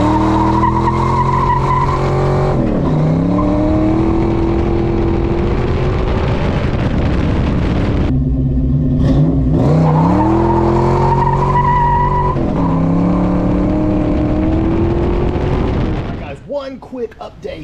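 A Ford Fox body Mustang revs hard and launches on a wheel hop test, the engine note climbing through gears in two long, loud pulls with a steady strained roar and tire noise, cutting off abruptly near the end.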